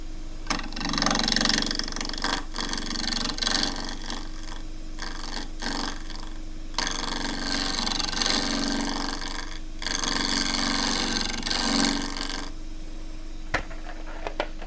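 A Tasmanian sassafras rectangular bowl spins on a wood lathe while a gouge's wing shear-scrapes the corner, giving steady hissing bursts of cutting separated by brief pauses, with a low motor hum running underneath throughout.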